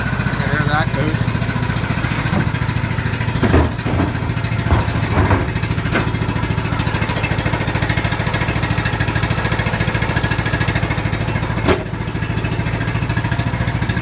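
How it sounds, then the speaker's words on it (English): A lawn mower engine runs continuously close by, a loud, steady rough drone with a few brief clanks and knocks, while voices talk over it. "Basically my dad's mower."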